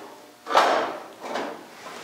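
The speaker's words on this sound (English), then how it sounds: "Could be the door check is jamming again." A classic 1956 Chrysler Windsor car door binds on its jamming door check, giving two close scraping clunks about a second apart, the first louder and longer, with no talking.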